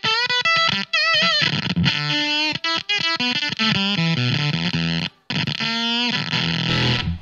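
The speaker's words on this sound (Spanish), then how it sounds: "Fuzz Face, más clásico." An electric guitar plays through the Fuzz Face pedal emulation in IK Multimedia AmpliTube X-Drive, giving a gritty, gated fuzz tone. Loud, choppy single notes and short bends are separated by abrupt silences, with no voices.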